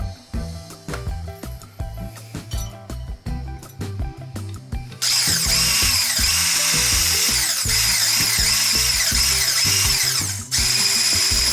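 A handheld power drill fitted with a whisk adapter, used for cooking, whirs loudly and steadily for about six seconds, pausing briefly near the end before resuming, with background music running throughout.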